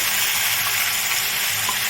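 Mustard and poppy seed paste with yogurt sizzling steadily in hot oil after nigella seeds have fried, a continuous close crackling hiss with no voices.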